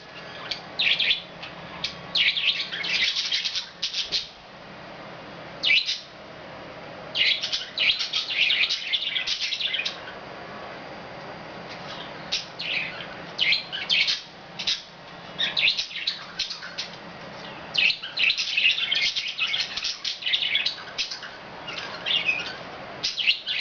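Pet budgies chirping indoors, bursts of bright, rapid twittering and chatter from close by that come and go in clusters, broken by short pauses.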